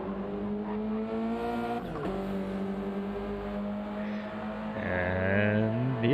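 Race car engine droning steadily as it laps a circuit, a strong sustained harmonic tone that shifts pitch near the end as the car accelerates, loud and close, with no talk.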